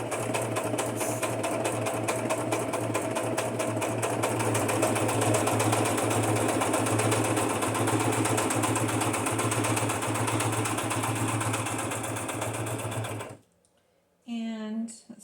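Sewing machine stitching steadily through two layers of a cardstock junk journal cover, loud and continuous for about thirteen seconds before stopping abruptly, with a brief voice afterward.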